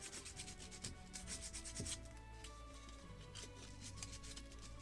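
Sandpaper rubbed against the wood of a Midwest kit Muscongus Bay lobster smack model boat, a steady close scratching that runs in repeated strokes, louder in the first two seconds.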